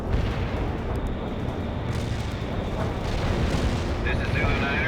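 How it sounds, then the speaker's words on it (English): Artillery strike in the game World in Conflict: a sustained, loud rumbling barrage of explosions filling the whole clip, with a brief radio-like crackle near the end. "Artillery firing. A perfect artillery hit."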